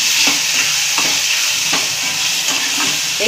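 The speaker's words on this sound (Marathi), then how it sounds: "2 टोमॅटो बारीक चिरलेले, 1 साखर असं चांगलं मिक्स करून भाजून घ्यायचं।" Finely chopped tomatoes and sugar sauté and get stirred in a pan for a Maharashtrian sukat (dried fish) dish, a steady loud sizzle with a spoon scraping through at roughly regular intervals, and no voices.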